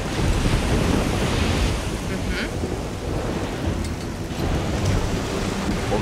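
Thunderstorm with heavy rain and sea surf from the video game Risen 2, a loud, continuous wash of rain and crashing waves with low rumbling, no voices.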